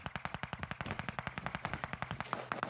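NZ-41 rifle in Warzone Caldera fires rapid automatic bursts, about thirty evenly spaced, punchy shots in under three seconds, loud and close.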